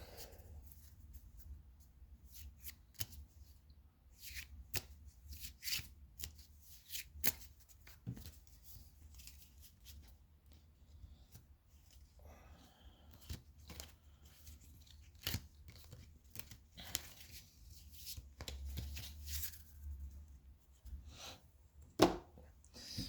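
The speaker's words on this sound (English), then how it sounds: "I'll give this deck another shuffle when I've got it out." A deck of Disney Lorcana trading cards is shuffled at close range in repeated riffling bursts with short pauses between them, crisp papery flicks and slaps over a quiet background, with no talking.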